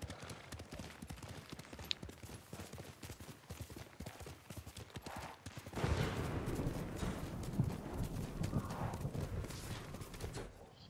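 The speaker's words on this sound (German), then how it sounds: "Ich rufe jetzt einfach mal direkt mein Pferd und wir reiten mal los ins Gewitter hinein." Hoofbeats of a horse ridden in Ghost of Tsushima, a steady clip-clop rhythm that swells louder and denser midway as the ride heads into a thunderstorm, with rumbling weather noise underneath.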